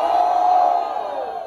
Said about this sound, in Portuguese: Diferentemente, barulho pra quem gostou das rimas de Yoga!